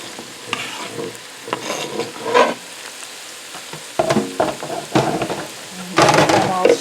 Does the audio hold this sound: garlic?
yes